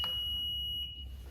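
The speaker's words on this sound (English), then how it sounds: "simply press the start button another time and hear the beep" A Honda Goldwing motorcycle beeps as the start button is pressed during its emergency start code entry: one steady, clear high-pitched electronic tone held for almost a second, then cut off, alone over a low background hum.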